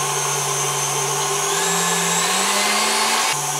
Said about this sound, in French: On va mettre le batteur en route.